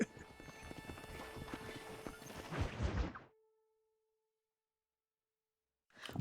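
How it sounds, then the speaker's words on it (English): Wild horses in the Red Dead Redemption video game, hooves clip-clopping with a whinny amid game sound, rising to a louder burst before dropping to near silence and a brief return at the end. "Wild horses."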